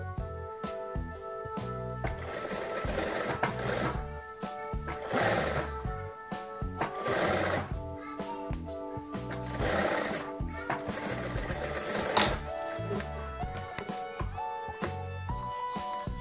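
A sewing machine stitches a child's dress, running in bursts of rapid, rhythmic mechanical clatter with brief pauses between runs, close and clear throughout.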